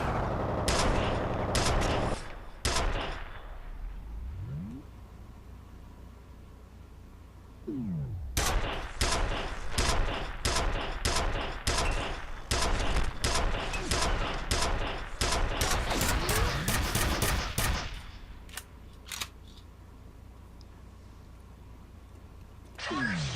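A semi-automatic nail gun fires in the shooter F.E.A.R., loud rapid sharp bursts in fast volleys with short pauses between, amid other combat noise while someone talks over the action.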